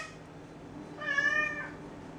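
A clingy house cat lets out a single drawn-out meow, close and clear in a quiet indoor room.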